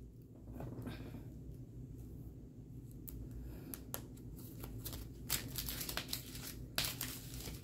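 A mystery craft kit is packed into a plastic bag, making quiet, close crinkles and rustles with scattered sharper crackles that grow busier toward the end.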